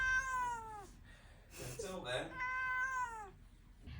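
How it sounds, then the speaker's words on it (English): A ginger kitten meows twice, drawn-out and tonal, close by, with a person talking briefly in between. "I can vouch for the fact that he's always meowing."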